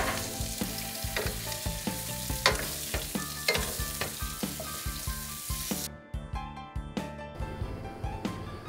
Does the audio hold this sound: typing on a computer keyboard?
no